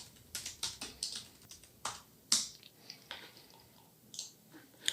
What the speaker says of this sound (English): So if we type Terraform apply,